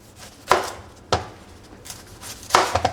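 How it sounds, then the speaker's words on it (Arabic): A kitchen knife slices an onion into rings on a cutting board. A few crisp, close thunks are spaced unevenly, ending in a quick double cut, with no talking. "وانا عندي هون بصل بدي اقطعه ترانشات"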